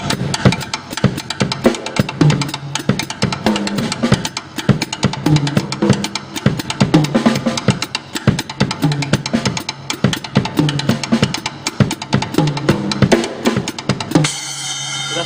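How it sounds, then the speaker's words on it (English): A drum kit plays a steady, busy triplet pattern, dense and loud, with continuous rolling hits throughout and a brief change at the very end. "But yeah, it's something. It's like a bunch of triplets."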